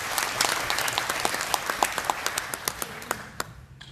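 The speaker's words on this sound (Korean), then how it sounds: "멋진 인사 말씀을 해주신 회장님께 다시 한번 큰 박수 부탁드립니다" At a Korean forest owners' association event, an audience gives the chairman a round of hand clapping that starts full and close, then thins to a few scattered claps before stopping.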